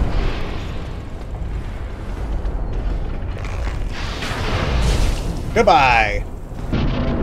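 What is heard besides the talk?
explosions in the video game Dark Souls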